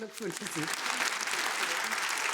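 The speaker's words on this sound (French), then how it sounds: "Elle reçoit son prix sous les applaudissements du public" Public applause at a book fair peace prize ceremony in Frankfurt's Paulskirche, dense clapping rising to a steady roar after a voice speaks briefly at the start.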